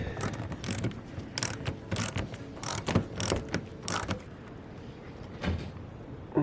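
Clicking ratchet turning a 7/32 socket on the front bumper fasteners of a 2018 Ford Explorer, repeated bursts of close, crisp ratcheting in an uneven rhythm, with no talk.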